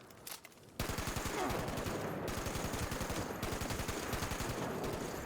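Rapid automatic gunfire in Fallout 76 rattles in a fast, steady stream of shots, loud and continuous after a brief quiet start with a few scattered bursts.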